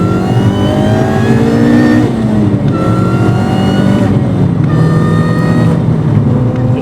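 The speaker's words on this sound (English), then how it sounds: "let's talk a bit more about that supercharger whine and have a listen" A MINI R53 Cooper S with a supercharged engine accelerates hard in second gear, a steady high supercharger whine rising in pitch over the engine drone, climbing again after each brief lift, loud and close.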